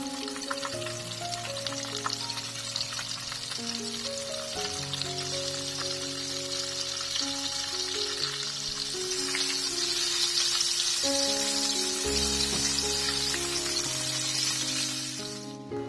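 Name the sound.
squid frying with small pops in oil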